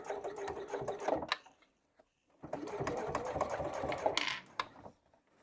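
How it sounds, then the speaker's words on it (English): A sewing machine stitches down a straight section of waterproof canvas binding in two close, steady runs separated by a brief silent pause. "I'm just going to sew down the straight section."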